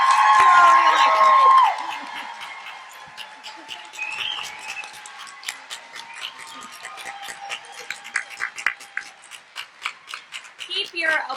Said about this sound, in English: Keep your applause going for the one, the only, Monica.